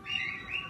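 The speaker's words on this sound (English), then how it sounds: "our neighbors have some birds." Faint pet birds chirping in short repeated tweets, softly in the background from next door, with a low outdoor hum.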